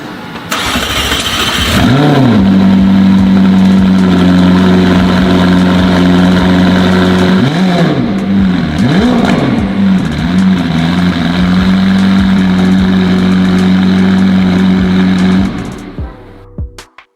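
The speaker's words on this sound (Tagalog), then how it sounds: "Isang 7-speed automatic, rear-wheel drive, 4-liter twin-turbo, V8 engine na may 740 horsepower at may top speed na 332 km per hour" A 2024 McLaren 750S Spider with a 4-liter twin-turbo V8 fires up with a sharp bark, blips its revs a few times, then settles into a loud, steady idle before cutting off near the end.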